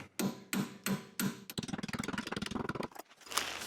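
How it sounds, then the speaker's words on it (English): Hammer taps on a nut at the back of the suspension of a 2009 Audi S5 V8, four evenly spaced sharp metallic strikes, then a fast run of ratchet wrench clicks and a final louder knock, all close up. "So now I switch to the ratchet wrench, and again slightly tap on the nut on the back side"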